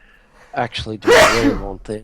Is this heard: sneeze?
yes